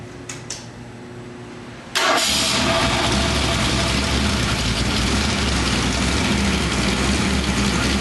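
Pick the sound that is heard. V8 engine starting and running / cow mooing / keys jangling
V8 engine starting and running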